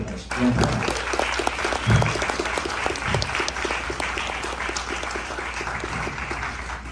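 An audience at a film festival screening event applauds steadily and loudly throughout, dense crowd clapping with a few voices and an amplified voice faintly under it.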